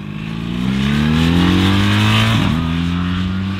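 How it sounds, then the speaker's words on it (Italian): A BMW R 1300 GS boxer-twin motorcycle engine runs steadily close by, its low throbbing idle rising slightly in pitch with a brief blip partway through, with no talking. "Poi fa i dovuti rumori da motore boxer, seppure un po' meno rispetto al vecchio GS."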